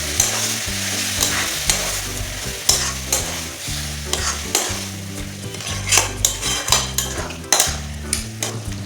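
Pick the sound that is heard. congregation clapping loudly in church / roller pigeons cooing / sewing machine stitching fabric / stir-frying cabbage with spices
stir-frying cabbage with spices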